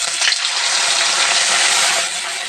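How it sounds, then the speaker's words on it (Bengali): Ground spice paste dropped into hot oil, sizzling and frying loudly and steadily, with a sharper crackle at the start and a constant hiss throughout. "তো তেলটা আমার গরম হয়ে গেছে। এবার বাটা মশলাগুলো দিয়ে দিব।"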